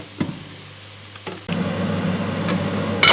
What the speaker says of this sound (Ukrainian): Шкварчіть. ну і так пару хвилинок,